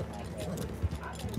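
Horse hooves clip-clopping in the Red Dead Redemption 2 video game, a few soft dull thuds under continuous talking.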